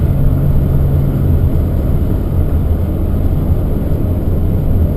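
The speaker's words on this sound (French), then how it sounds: "Elle répond bien à l'accélération" A 1968 Mercury Cougar accelerates from inside the cabin, giving a loud, steady low engine roar with road rumble that holds for several seconds with no voices.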